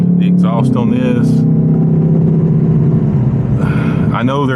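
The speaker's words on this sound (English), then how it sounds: "But the sound, the exhaust on this," A deep, steady exhaust rumble from a 2025 Ford Mustang Dark Horse 500 hp V8 idling, with a person talking over it.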